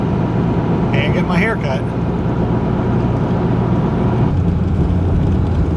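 A car being driven produces a steady low engine and road drone inside the cabin, while a person talks over it.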